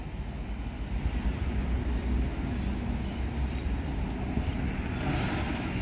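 A Rápido do Oeste bus pulls into the Ribeirão Preto bus terminal, its engine producing a steady, fairly loud low rumble that continues without a break and with no voices over it.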